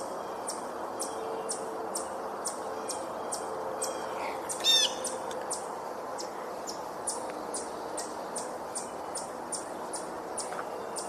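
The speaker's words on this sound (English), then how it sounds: "few more Blue Jay vocalizations." A harsh blue jay call cuts in briefly around the middle, set against a steady pulsing chorus of insects in a quiet outdoor setting.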